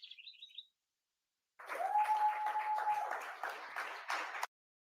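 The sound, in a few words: audience clapping at a meeting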